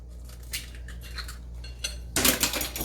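Two eggs cracked and broken up in a bowl for fried-fish beer batter, heard as clinking and tapping against the dish, with a louder burst of clatter near the end.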